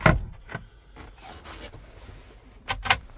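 A cupboard door in a VW T6 campervan is lifted and opened, giving a few soft knocks, rubs and scrapes of the hinged panel, with a louder pair of clicks at the end, close and without talk.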